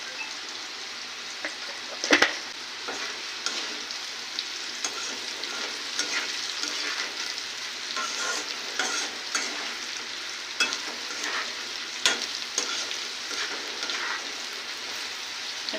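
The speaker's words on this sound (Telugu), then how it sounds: "ఇప్పుడు పసుపు వేసినాం కదా, మళ్ళీ వేయించుకున్నాం." Turmeric sizzles in hot oil in a pan, a steady dense frying hiss running throughout with a few sharp spoon clicks against the metal, close and continuous with no voices.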